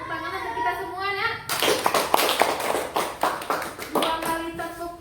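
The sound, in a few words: children clapping in class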